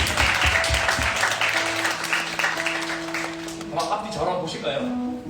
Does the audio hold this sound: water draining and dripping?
no